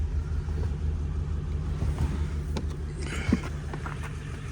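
A 1940 Ford Deluxe Tudor sedan engine runs quietly at idle, a soft, even low hum with a faint steady pulse, a few light clicks and a brief bump near the end, no voices over it.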